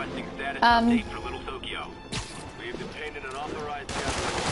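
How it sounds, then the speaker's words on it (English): Criminals in Marvel's Spider-Man open fire, loud bursts of rapid gunshots that come and go between other game sounds and a talking voice. "There's criminals trying to shoot me, and there's Sable trying to shoot me"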